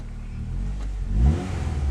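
A Honda Integra Type R DC2 engine runs while warming up, a close steady idle that swells into a brief rev, with no talk.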